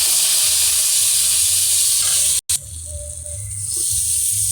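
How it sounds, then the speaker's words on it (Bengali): Spices for a katla fish curry, colored with Kashmiri chili, hiss loudly in a hot pan as water is poured in. A steady, strong steam sizzle runs throughout, with a brief dropout midway before it settles back. "আর একটু জল দিয়ে ভালো করে কষিয়ে নেব"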